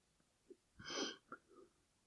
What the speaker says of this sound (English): I'm yawning like crazy.